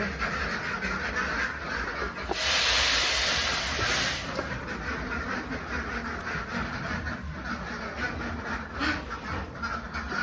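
A flock of young Khaki Campbell laying ducks quacks continuously in their pen on a duck farm, a busy, layered chorus of calls, some close and loud, with no talking.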